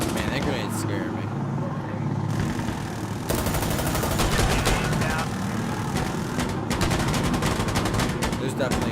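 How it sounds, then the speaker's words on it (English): Light machine gun firing in the shooter game Insurgency Sandstorm, loud sustained bursts of rapid automatic gunfire that run almost the whole time with brief pauses between volleys. "There's definitely a LMG gun there."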